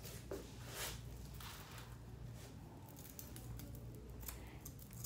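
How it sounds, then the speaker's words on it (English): Texturizing shears snipping through a client's hair during a haircut, giving soft, repeated close-up cutting sounds over a steady low background hum, with no talking. "You can't use texturizing shears on everyone because it can leave gashes in the hair"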